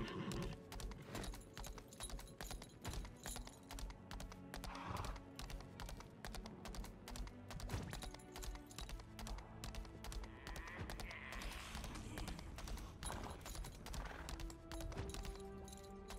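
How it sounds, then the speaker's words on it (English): A horse mount gallops in the video game Lost Ark, steady rapid clip-clop hoofbeats with occasional whinnies over game music and effects, fairly faint. "And let's use our horsey."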